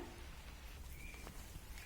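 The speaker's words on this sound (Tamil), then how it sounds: "மழை இன்னும் விட்டப்பாடே இல்லை." Rain falling steadily outdoors near a home garden, a faint, even hiss of drops with no talk.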